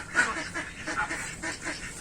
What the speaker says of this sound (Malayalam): ഇവിടെ നിറച്ചത് താറാവുകളാണ്.